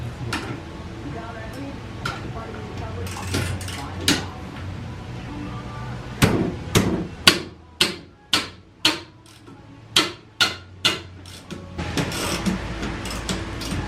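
A ratchet wrench with a 17 mm socket and extension works on the coilover bolts of a Mazda Miata, its sharp mechanical clicks arriving in a fast, regular burst of a dozen or so close, loud ticks, with scattered earlier clicks and faint background noise.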